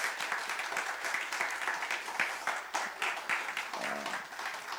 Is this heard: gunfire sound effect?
no